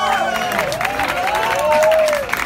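A crowd at a rock and blues tribute concert applauds and cheers for a woman singer taking the stage, with loud, sustained clapping and a whistling tone riding over it.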